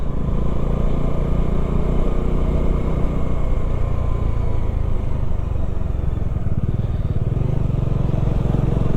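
Motorcycle ridden up a rough mountain road toward Tungnath, its engine rumbling loud and continuous with wind buffeting and road clatter throughout.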